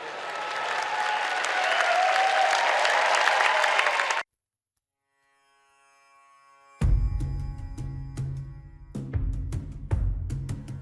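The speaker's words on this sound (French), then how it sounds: "3600 touristes applaudissent le show d'1h30." An audience of 3,600 tourists applauds a 90-minute Cirque du Soleil show in a sold-out Las Vegas theatre, dense full-house clapping for about four seconds, then a cut to silence and unrelated music.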